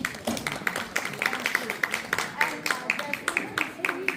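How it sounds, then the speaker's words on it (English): Warm audience applause at a community foundation event, a steady crowd of claps of even loudness throughout, with some voices faintly underneath. "please round of applause"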